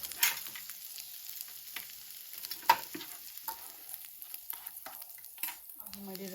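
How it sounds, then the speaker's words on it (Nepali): Minced meat (keema) fries in a pan for keema noodles, a soft, quiet sizzle broken by irregular scrapes and clinks of stirring close by, with no talk. "यता चाहिँ किमा चाहिँ यसरी फ्राई हुँदैछ।"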